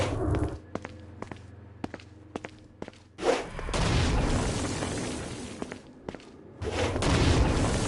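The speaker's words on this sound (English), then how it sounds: "Stone Blast is especially useful on flying demons like this one." A Stone Blast attack in the Saints Row video game: a series of sharp thumping impacts, then a booming blast that rolls into a long, loud rumbling roar, followed by another heavy burst near the end.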